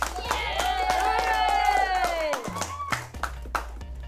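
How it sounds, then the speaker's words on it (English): Children clapping in a round of applause at a school award moment, scattered claps heard under a voice and cheerful sounds, fairly close and moderately loud. "For outstanding contribution, the Certificate of Merit goes to Vada. Round of applause."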